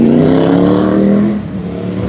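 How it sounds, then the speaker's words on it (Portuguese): A noisy motorcycle passes close by on a Copacabana street, its loud buzzing engine climbing in pitch and then dropping away after about a second and a half, with traffic murmur remaining. "Lá vem uma moto barulhenta."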